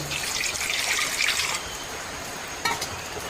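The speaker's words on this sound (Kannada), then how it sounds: "ಒಂದು ಪಾತ್ರೆಗೆ ಸ್ವಲ್ಪ ನೀರು ಹಾಕ್ಕೊಳ್ಳುವ" Water pours into a cooking vessel in a steady, splashy stream for about a second and a half, then settles into a softer trickle with a brief splash near the end, close and clear with no talking.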